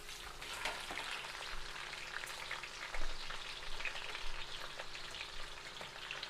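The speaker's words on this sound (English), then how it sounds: "we're gonna dump the onions in" Onions frying in a hot pan as sauce is made, a steady close sizzle and crackle with small spits and stirring bumps, continuous and without speech.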